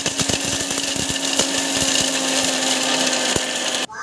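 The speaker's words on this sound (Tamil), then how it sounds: "மிக்சியில் போட்டு அரைச்சி" A kitchen mixer grinder grinds almonds with a loud, steady, high-pitched whir, rough rattling and clatter of nut pieces against the jar, then cuts off abruptly just before the end.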